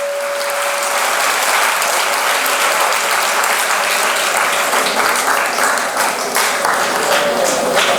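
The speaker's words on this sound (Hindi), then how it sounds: "जोरदार तालियों के साथ ब्रदर आमिर को इस्तकबाल करूंगा।" An audience at an educational festival event bursts into sustained, dense applause as a speaker is welcomed onto the stage, steady and loud throughout with a faint tone held early on.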